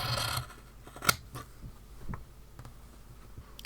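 Scissors snip through overhanging fabric strips during a slow-stitching trim, a few crisp, close cuts with soft rustling of cloth between them and no talking.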